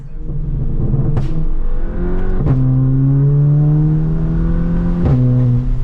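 A Stage 2 tuned Volkswagen Polo GTI engine revs hard and loud, pitch climbing repeatedly, with sharp pops or cracks between the rising runs.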